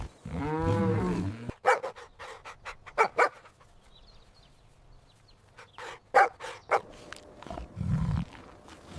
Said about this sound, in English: Woof woof. Arf arf. Arf arf.